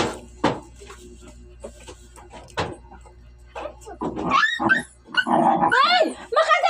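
A dog growling and snarling in short, rough bursts that get louder toward the end, close by, with a person's voice talking over it.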